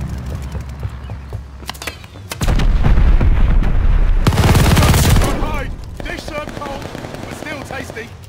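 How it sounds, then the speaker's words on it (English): In the video game Call of Duty: Vanguard, mortar shells crash down in a loud, sustained barrage of booming explosions and gunfire. A quieter stretch of scattered shots follows, with voices speaking over the battle. "They're sending mortar shells."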